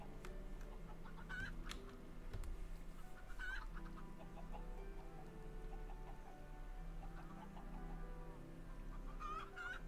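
Chickens in the Minecraft video game, repeated short clucks scattered over a steady low background hum, fairly quiet and with no talk.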